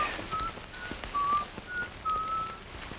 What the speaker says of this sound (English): Listen, somebody's whistling Yankee Doodle.